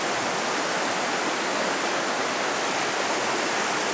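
Angitis river in Drama, Greece, flowing steadily near the path to its cave, a broad continuous rush of moving water that stays loud and even throughout with no voices.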